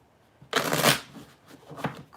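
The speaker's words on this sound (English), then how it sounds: "I'm going to go ahead and start shuffling cards." A deck of tarot cards is shuffled by hand up close: a loud riffling burst, then softer flicks and slides as the cards settle, with no talking.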